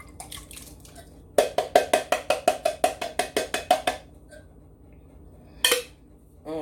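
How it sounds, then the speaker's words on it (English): A wire whisk stirs crushed pineapple into Jello mix in a bowl, giving a quick run of about a dozen sharp, evenly spaced clinks against the bowl, close and clear, with a single clink after a short pause. "I'm just going to use the whisk. Stir it, stir it, stir it."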